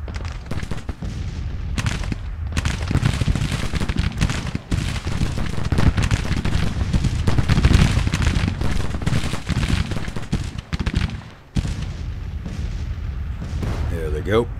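Artillery fire in Grand Tactician: The Civil War, a Civil War battle with cannon and counter-battery fire: repeated booming blasts and crackling gunfire that run almost without a break, with short gaps near the end.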